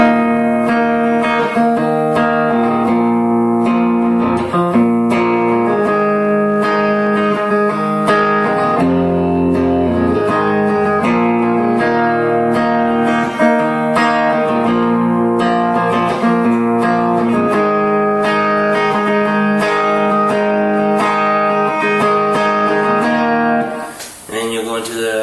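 Guitar chords from a song's verse are strummed steadily, the progression repeating and settling on a G, loud and up close before stopping near the end.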